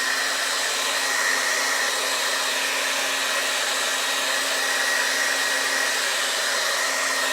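A hair dryer set to high heat blows steadily and loudly, drying a homemade fall decoration, a constant close whooshing hum with no voices.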